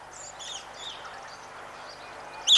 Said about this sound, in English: Vivid lorikeets and parrots wing their way through the undergrowth, their colours and calls adding another element of unusual beauty to this island landscape.